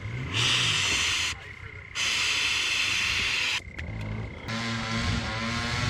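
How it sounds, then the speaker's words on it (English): An electrolyte drink boiling over gives off loud, close hissing in three long bursts, with short pauses between them, and someone speaks nearby. "That's all my electrolytes boiling over."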